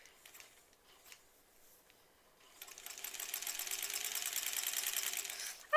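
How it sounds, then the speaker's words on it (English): A sewing machine runs a steady topstitch along the edge of a zipper pouch, starting after a few quiet handling sounds and humming continuously at moderate volume until the clip ends. "Top stitching along the edge here."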